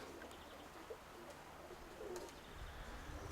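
Old pigeons coo faintly in a quiet spot, soft low calls scattered through the stretch with a few light chirps and a slight flutter toward the end.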